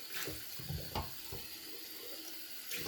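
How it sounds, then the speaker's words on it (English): A bathroom sink tap runs steadily as a shaving soap bowl is rinsed beneath it, a soft close splashing with a few small bumps from the bowl in the water stream. "Now I'm rinsing out the bowl."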